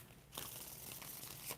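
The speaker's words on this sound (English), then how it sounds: "So, Ravi, 5 shuffles." Tarot cards being shuffled make a dense, soft riffling rush that starts abruptly and continues steadily, close and fairly quiet.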